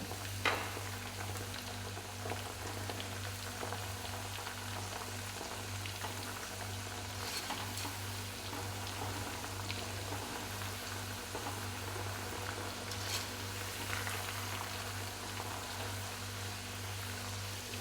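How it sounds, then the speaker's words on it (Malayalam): Homemade chips fry in hot oil, giving a steady, even hiss with scattered soft crackles and pops throughout, with no voices over it. "ഇത് പൊട്ടലും ചീറ്റലും കരച്ചിലും പറച്ചിലും നിൽക്കുന്ന സമയത്ത് നമുക്ക് വാങ്ങിയെടുക്കാം"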